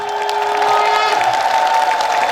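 Audience applause with ululation at a Hindu religious discourse, loud and steady, dense broadband clapping with a sustained high ululating tone running through it.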